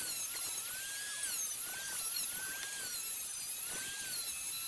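A small rotary tool fitted with a 180 grit green wheel whines steadily while cleaning internal sewing machine parts such as the thread take-up arm, a thin high-pitched buzz with slight pitch dips as it bears on the metal.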